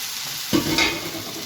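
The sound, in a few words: shrimp sizzling as they are added to the frying pan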